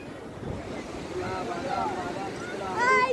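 Sea waves wash steadily along Digha beach, a broad noisy surf roar with wind buffeting the microphone, while voices talk over it and someone calls out near the end.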